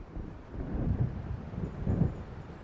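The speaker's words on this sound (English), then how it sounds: "It seems there's a storm coming." Low thunder rolls twice through a storm in the video game Alan Wake, soft distant rumbles swelling and fading under a windy, muffled background.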